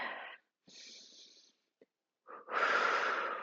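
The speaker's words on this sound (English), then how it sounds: "Deep inhales and exhales." Deep breathing during an intermediate Pilates reformer session with a Pilates ring, heard as slow, close, airy inhales and exhales separated by short silences, the last breath long and strong.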